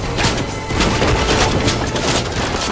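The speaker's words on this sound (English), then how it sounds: "who is shooting me?" Continuous gunfire in the Fortnite video game, a dense, loud barrage of overlapping shots and crashes with no clear gaps between them.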